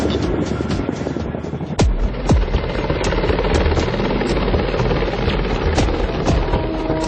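A helicopter's rotor thumps steadily with a loud, continuous engine drone, close by and sustained throughout.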